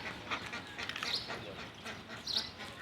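Ducks eat their feed, giving soft, faint quacks and dabbling noises in a quiet outdoor setting, with a voice talking faintly beneath.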